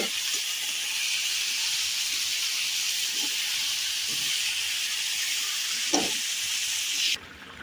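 Meat fries in a pan with salt, turmeric and spices, giving a steady, moderately loud hiss and sizzle with a few faint clinks of stirring.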